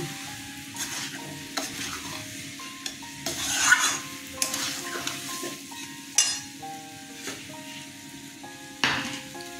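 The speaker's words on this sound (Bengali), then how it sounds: "সেই জন্য মশলার মধ্যে ভালো করে কষিয়ে নিচ্ছি।" Soybeans are sautéed in spice masala with a continuous sizzle and repeated scraping stirs of a utensil against the pan, close-up with no talking.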